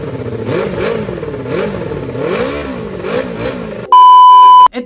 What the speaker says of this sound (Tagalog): Umaandar na yung makina ng motor.